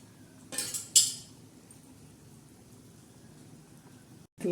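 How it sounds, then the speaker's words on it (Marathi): A lid set down on a pan of surmai fish curry: two brief metallic clinks close together early on, then quiet kitchen background. "आता याच्यावर झाकण ठेवणार आहोत आपण"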